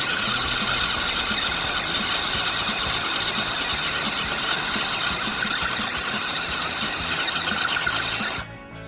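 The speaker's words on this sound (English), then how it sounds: "We're gonna try the upgraded motor in the MN82 versus the stock motor in the Land Rover Defender" Electric motors in two RC crawlers, an upgraded MN82 and a stock Land Rover Defender, run in a steady, loud, high whine for several seconds, then cut off abruptly at the end.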